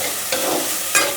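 Ginger and garlic fry in a pan with a continuous sizzle, broken by two sharper bursts as the pieces are stirred, close and fairly loud.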